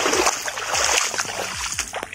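Splashing steps of someone wading across shallow sea water on a village path, with rhythmic sloshes every half second or so, close and fairly loud.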